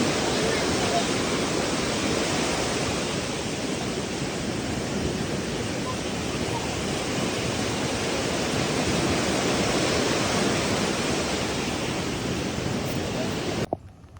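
Floodwater rushes loudly and continuously, a dense broadband roar that holds steady from start to finish before cutting off abruptly at the end.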